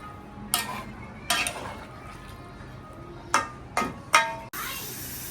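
Potatoes are stirred in a cooking pot alongside a meat dish, giving several separate scraping, clanking strokes of a spoon against metal over a faint sizzle, ending in a sustained hiss.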